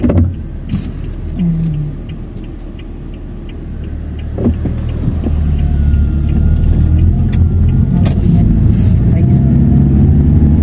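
A Hyundai car passes along a road in Japan on the school walk, a low engine and tire rumble that swells and holds toward the end, with people talking over the traffic.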